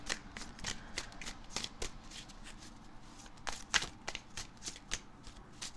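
Tarot cards being shuffled and drawn during an Ophiuchus money reading, a steady run of crisp riffling snaps and slaps, close and moderately loud, with no talking.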